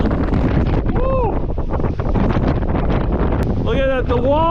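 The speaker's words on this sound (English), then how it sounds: "Oh, it is really blowing out here" Strong gusting wind roars steadily across the microphone in a snowstorm while camping under the snow, with an excited voice exclaiming over the constant loud blustering.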